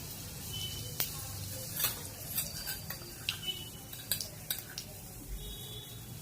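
Mustard and cumin seeds crackle in hot oil in a kadhai wok. Quiet, scattered pops and small spits sound over a faint steady sizzle.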